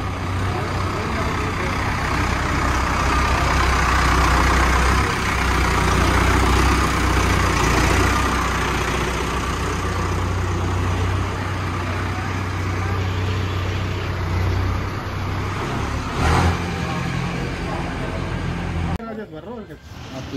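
Tractor engine, an Arjun Novo 605 or New Holland 3630, running steadily at close range as a loud, continuous low rumble for about nineteen seconds before cutting off abruptly.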